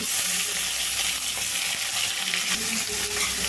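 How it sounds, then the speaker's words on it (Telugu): Chopped onions with asafoetida and curry leaves fry in hot oil, a dense, continuous close sizzle with stirring throughout. "చూడండి మంచిగా వేగాలండి మరి ఉల్లిపాయ ఎక్కువ వేగాల్సిన అవసరం లేదండి"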